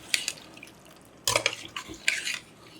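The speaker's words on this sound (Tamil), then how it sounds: "அதாவது ஒரு 1/2 டம்ளர் தண்ணி விட்டுருக்கேன்." Water is poured into mutton cooking in a masala in a pot, giving short splashing bursts and a clink of metal, close by with quiet gaps between.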